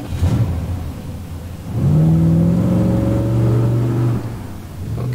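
A car engine in a video game revs up loudly and holds a steady high drone for a couple of seconds, then eases off, with no talk over it.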